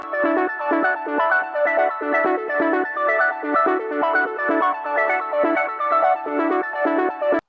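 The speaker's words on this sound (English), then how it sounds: "The main synth that you hear in the verses is just an arpeggiator" A bright synth plays a fast repeating arpeggio pattern in a steady rhythm, clean and unaccompanied.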